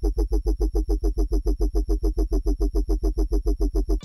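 Deep dubstep bass synth patch built in Serum with a saturator and pitch-bend automation, a loud, gritty wobble pulsing in a fast, even rhythm of about five beats per second, heard alone without talk.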